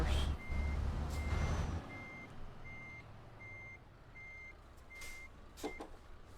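A lorry's reversing alarm in a truck driving video game, with evenly spaced beeps repeating steadily over a low engine rumble and a few clicks near the end.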